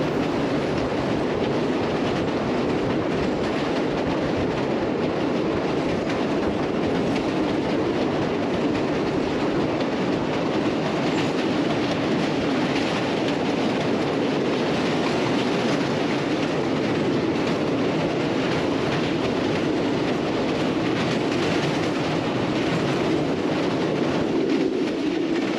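The 7up Tezgaam passenger train crosses the Alexandra Bridge over the Chenab River, heard from on board as a loud, continuous roar with rhythmic clickety-clack of wheels over rail joints and occasional faint squeals, with no talking.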